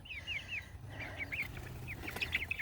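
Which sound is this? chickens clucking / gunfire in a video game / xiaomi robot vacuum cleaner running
chickens clucking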